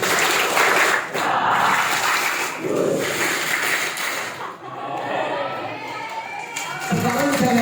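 A hall full of students claps in unison through a drilled clapping-game routine, loud dense bursts with brief pauses between, shouts and voices mixed in, during a school orientation session.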